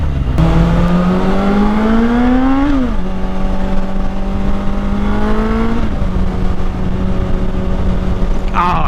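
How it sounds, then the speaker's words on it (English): Suzuki GSF600 Bandit motorcycle with a loud Delkevic exhaust: a loud nearby engine revs up through gears, pitch climbing then dropping at each shift, with a strong buzzing exhaust note and no talk over it. "Oh, it is more fun to ride with a loud exhaust, though."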